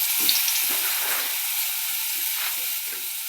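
Urad dal vadai frying in hot oil, a close, continuous sizzle and hiss with small bubbling bursts throughout.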